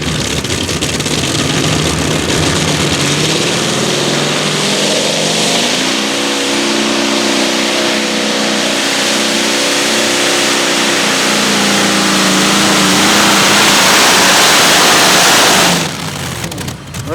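A modified tractor at a 2024 pull drags a sled with a loud, roaring engine at full strain, its harsh sustained howl rising in pitch before cutting off abruptly near the end.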